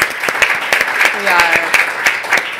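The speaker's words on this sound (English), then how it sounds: "ask for a quick round of applause" A quick round of applause from an audience at a talk on internet shutdowns, with dense clapping close by and a voice speaking over it at the same time.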